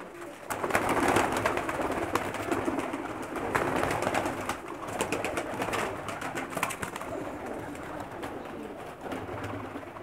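Female Pakistani flying pigeons coo close by, a soft, repeated rolling murmur that carries on throughout, with other birds chirping faintly in the background and no voices.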